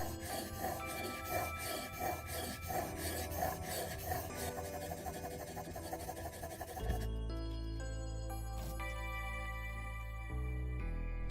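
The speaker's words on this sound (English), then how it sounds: "350 whetstone to start pulling away the metal." A damaged chisel is worked back and forth on a 350 grit whetstone, giving rhythmic scraping rasps close up for about seven seconds, then a steadier tonal hum takes over.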